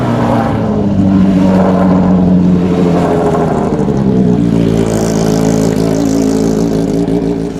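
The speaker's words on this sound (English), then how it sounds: "So cars are just starting up," Cars at a gathering with a Ferrari F40 and a Cobra start up and rev before a short convoy, producing a loud, close engine roar that climbs in pitch and then settles into a steady, throaty idle.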